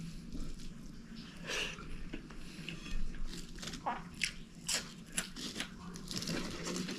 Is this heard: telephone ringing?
no